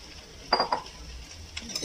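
Raw tomato being stirred into boiled bitter gourd in a pan, a few quiet scraping clinks of a spoon against the pan over a faint background hiss.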